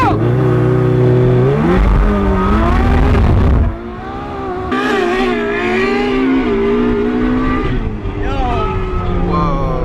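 A Ferrari 488 Pista and a Ferrari 812 Superfast accelerate hard side by side in a drag race, engines revving up through rising gear pulls with a shift break, loud and close, with a brief shout over them.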